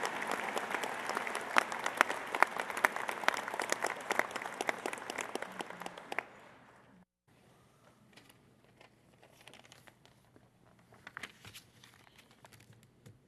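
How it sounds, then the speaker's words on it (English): Convocation audience applauding a teacher, a dense, loud wash of clapping for about six seconds before it cuts off, leaving a quiet hall with faint rustling and scattered small noises. "Let's join and send our applause all the way to Prince Albert"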